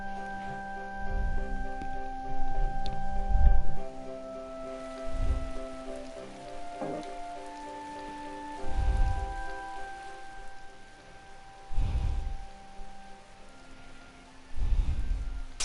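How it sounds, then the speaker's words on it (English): Rain falls steadily in the video game Tales of Vesperia, a continuous patter under sustained game music, with several deep rumbling swells recurring every few seconds. "It's raining."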